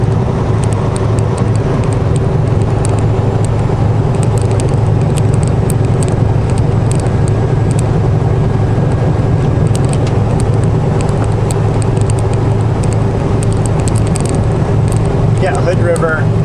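Heavy traffic crossing the Hood River Toll Bridge, a constant loud roar of vehicles and road rumble with faint metallic clinks, close by and unbroken throughout.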